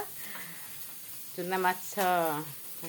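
Small fish frying in oil in a village kitchen in Salipur, Odisha, a soft continuous sizzle running beneath a person talking briefly over it.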